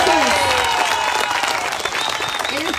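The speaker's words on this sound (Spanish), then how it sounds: "¡Fuerte los aplausos!" Applause breaks out for municipal candidates for mayor and trustee at a party event in Guatemala, a dense, steady crowd clapping that holds at full strength throughout, with faint voices and cheers mixed in.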